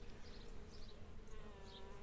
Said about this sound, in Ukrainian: Ось як працюють бджоли на фацелії.